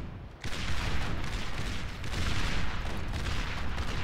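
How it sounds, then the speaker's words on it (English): Clusters of Hammer and Thud artillery bots fire in Beyond All Reason, a dense barrage of booming shots and impacts that kicks in abruptly after a brief quieter start and rumbles on steadily, loud and layered. "we're seeing artillery bots square off. So a bunch of hammers and some thuds from Goopy"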